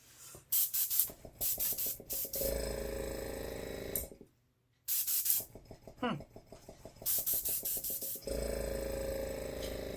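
Airbrush spraying thick acrylic paint for fluid art, an intermittent hissing that starts and stops in bursts and steady runs, close, with a short silent gap.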